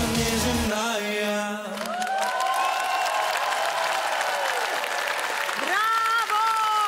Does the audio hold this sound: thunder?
no